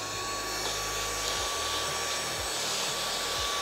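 A Meco portable vacuum blower runs at speed 3, giving a steady, loud whirring motor whine with no pauses.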